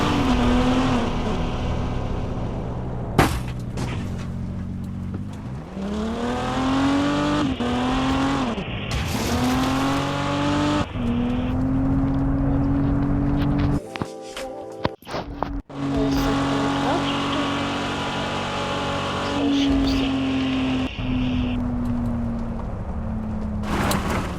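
A car revving and driving in MadOut 2, the engine whining up and down through gear changes with occasional tire squeals and skids, loud and continuous throughout.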